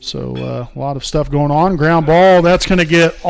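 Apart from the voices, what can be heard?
No everyday noises stand out.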